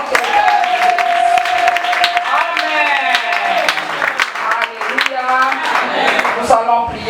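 A church congregation at a French-language service breaks into sustained, dense clapping, loud and close, with cheering voices and music running through it.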